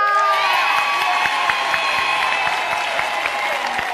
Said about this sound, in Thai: ขอเสียงปรบมืออีกครั้งนะคะสำหรับผู้เข้ารอบทั้ง 10 คนสุดท้ายจาก KPN Award ค่ะ